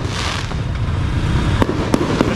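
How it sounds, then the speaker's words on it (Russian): New Year fireworks burst over Patong beach in Phuket at night, a dense crackling barrage with several sharper bangs standing out near the end, loud and continuous. "Я вам показываю новогодние салюты."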